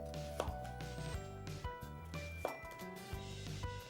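A knife cuts a long fluted zucchini into shaped segments, straight and angled. Crisp cutting taps land on a board beneath steady, tonal background music.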